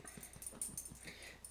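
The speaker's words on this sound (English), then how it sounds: "Got my little puppy dog right here." A small pet puppy whimpers and wheezes softly while held in a lap indoors, giving brief, faint whines and breathy yips close by with no talk over them.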